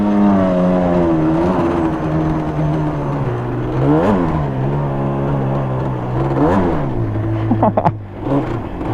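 Yamaha Banshee 350 two-stroke twin quad doing burnouts while turning, its engine holding a loud buzzing drone with sharp revving surges near four, six and eight seconds.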